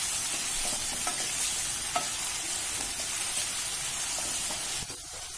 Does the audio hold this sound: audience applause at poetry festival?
no